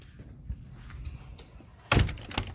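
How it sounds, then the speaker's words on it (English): A door at a lake house vacation rental swinging shut with a single solid thud and brief rattle, close by, after quiet shuffling movement. "Let me shut that door."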